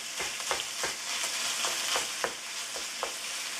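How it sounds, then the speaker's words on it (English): Ground pork fries in a pan over medium-high heat: a steady, close sizzle runs throughout, punctuated by regular soft scraping taps as the meat is stirred and broken up. "We're going to add all of our ground pork in there."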